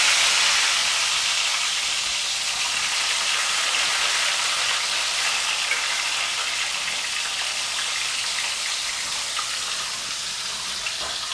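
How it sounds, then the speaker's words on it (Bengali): Salted, turmeric-coated eggplant pieces frying in oil give a loud, dense, continuous hiss and sizzle that holds steady and fades slightly toward the end. "বেগুনগুলোকে আমি আগে থেকে কেটে নুন হলুদ মাখিয়ে রেখেছিলাম, ওগুলো ভেজে নেব।"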